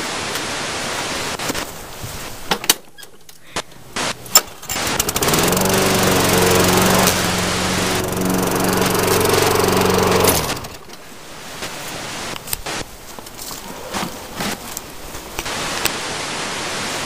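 A lawn mower engine drones loudly and steadily for several seconds, close by, between quieter stretches of rustling and scattered knocks before and after, with no talk.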